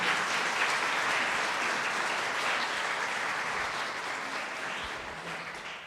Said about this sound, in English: give him applause, he deserves it.